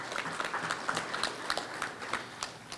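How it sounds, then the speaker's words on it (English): A small group at an economy talk with the St. Kitts Minister of Finance claps steadily for a few seconds, a moderate, even patter of hands in a room. "Let us give them a round of applause."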